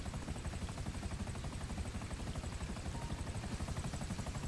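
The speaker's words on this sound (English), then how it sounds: "There's a helicopter!" A Buzzard helicopter in the video game GTA drones with a steady, rhythmic rotor chop that is fairly quiet and even throughout, with no one speaking.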